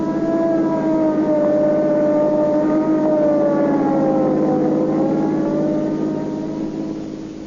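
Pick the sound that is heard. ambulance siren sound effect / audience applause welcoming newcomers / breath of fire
ambulance siren sound effect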